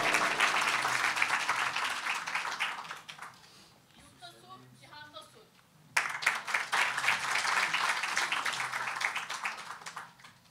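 Audience applause at a concert, loud dense clapping that fades to a brief lull with scattered claps and a voice, then surges back up abruptly and continues strongly.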